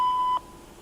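A single steady electronic beep tone from a complaint line answering machine, clear and loud for about a third of a second before cutting off into quiet line hiss.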